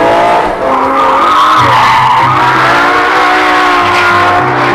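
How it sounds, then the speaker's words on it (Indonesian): A toy race car plays skidding tires, squealing and engine revving as loud, continuous sounds that fill the whole stretch. "mobil balap."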